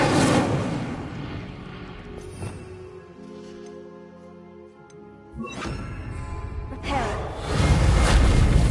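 An Incendio fire spell cast in the Hogwarts Legacy video game: a loud whooshing burst at the start, a fainter sustained tonal stretch, then fresh crackling roars and a strong rushing blaze near the end.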